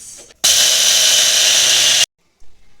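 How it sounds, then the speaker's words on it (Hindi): An electric mixer grinder whirs loudly for about a second and a half, grinding sugar into powder, then stops abruptly, followed by a faint clunk. "इसको भी ग्राइंड करना है। So let's do this."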